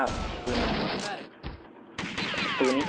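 Dense bursts of gunfire from the arcade shooter Virtua Cop 2, rapid shots filling most of the stretch with a short lull in the middle, fairly loud and close.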